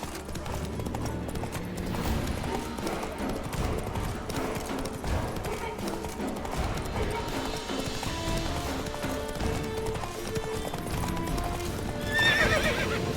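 A horse gallops in The Witcher 3: Wild Hunt, with rapid, steady clip-clop hoofbeats throughout and a whinny near the end, alongside game ambience.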